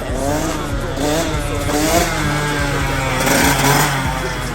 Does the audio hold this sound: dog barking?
no